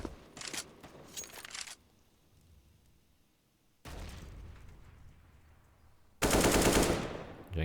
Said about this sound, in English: Spraying through smoke, trying to find something.